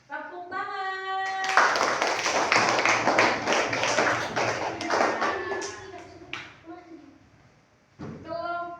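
A classroom group claps together for about five seconds in a teacher-training lesson, a loud flurry of overlapping hand claps. Voices speak before and after the applause.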